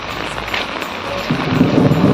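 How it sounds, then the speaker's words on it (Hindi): Rain falls steadily during a heavy downpour, and a low rumble of thunder swells near the end, fairly loud and close with no talk. "अभी बादल गरजा था भाई।"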